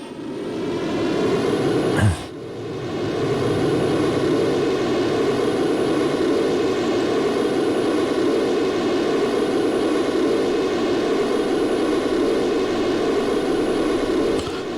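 Airplane engine in the Soviet-republic building game Workers & Resources, a steady loud drone with a continuous roar and a high whine, briefly interrupted by a short burst near the start, then droning on alone.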